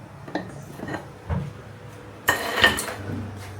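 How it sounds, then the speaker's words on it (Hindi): Dishes, pots and utensils are washed by hand, giving scattered clinks and clatters of metal and crockery, with a louder burst of rattling near the end, all fairly close and without talk. "मेरे बर्तन भी पड़े हैं, मैंने आज धोए नहीं थे, अब धो रही हूँ"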